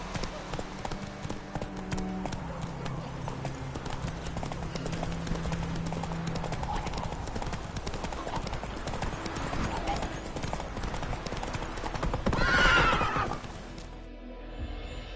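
Roach, a horse in The Witcher 3, gallops with steady rhythmic clip-clop hoofbeats and neighs loudly near the end, with game voices talking over the scene.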